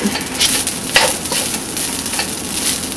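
Garlic fried rice sizzles steadily in a hot pan while it is stirred and broken up, giving a loud, continuous hiss with faint scraping. No one speaks.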